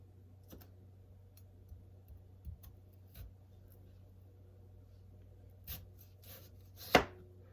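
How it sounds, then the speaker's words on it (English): A knife slices peeled potatoes thin for shoestring french fries; sparse, quiet cutting taps come at irregular intervals, with one sharper cut near the end, over a faint low hum. "I have my potatoes already peeled. So what you're going to do, you're going to slice it"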